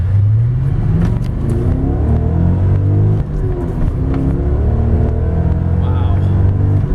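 A 2002 BMW E39 M5 accelerates hard from a slow start, its engine tone climbing steadily through the gears. The engine is loud and close throughout, with faint talk inside the cabin.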